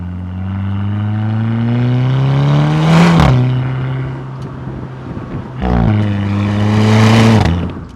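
A remapped VW Scirocco R with an upgraded exhaust accelerates hard on a road, its loud, close engine note climbing through the gears with rising drone, a crack at each shift, then pulling again.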